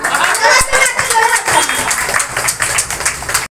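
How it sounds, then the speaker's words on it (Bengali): Loud, dense clapping from an audience at an International Mother Language Day event in Diamond Harbour, honouring the speaker's elder brother; a steady burst lasting a few seconds with some children's voices mixed in, stopping abruptly. "দাদার জন্য একটা জোরে হাততালি।"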